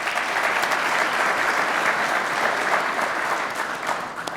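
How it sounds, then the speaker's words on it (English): Warm, sustained applause from a large audience at a motorsports hall of fame induction gala, a dense steady wash of clapping that stays loud throughout with no talking. "Give him a warm round of applause."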